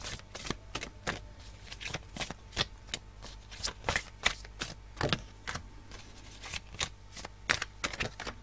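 Oracle cards are shuffled by hand, a quick run of crisp riffling snaps and flutters repeating in uneven bursts, close up and fairly quiet with no talking.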